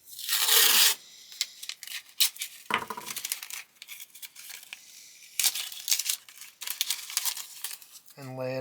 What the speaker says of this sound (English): Going to take some masking tape.